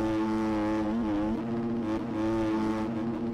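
A dirt bike engine in the video game MX Bikes, revving steadily in third gear with a buzzy, harmonic-rich tone that dips and rises slightly as the throttle shifts, loud and alone.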